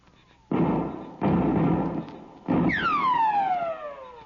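Gunfire in an old 1953 radio western drama: three loud, close shots in quick succession, the last followed by a descending ricochet-like whine that trails off.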